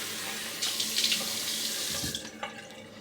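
Steady running tap water splashing as a razor is rinsed in a sink during a wet shave, a close continuous gush with small changes in the splash as the blade moves under the stream, no talk.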